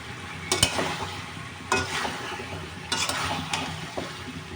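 Snakehead fish curry sizzles in hot oil in a pan while a utensil stirs and scrapes it in several separate strokes, close and fairly quiet, with no voices.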